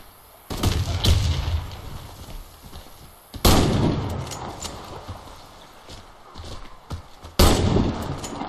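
Video-game explosions from a thrown grenade, three heavy booms spaced a few seconds apart, each a sharp loud blast fading into a rumbling tail.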